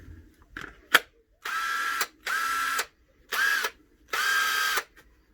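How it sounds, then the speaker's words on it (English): Ozito PXC cordless impact driver run in four short bursts with pauses between, a loud whirring buzz close by, after a few faint clicks and handling taps. "next is the impact driver"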